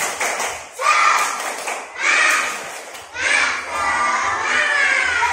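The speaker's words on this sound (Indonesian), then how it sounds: "Tepuk semangat terlebih dahulu supaya semua lebih fokus." Schoolchildren in an elementary classroom perform the tepuk semangat clapping chant, bursts of rhythmic group clapping mixed with loud shouted chanting in repeated phrases, each round rising then dropping briefly.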